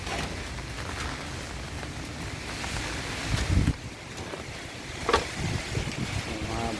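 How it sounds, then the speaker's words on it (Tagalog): Strong wind blows steadily through an outdoor vegetable garden, rushing and buffeting the microphone, with a couple of louder gusts. "malakas na ang hangin"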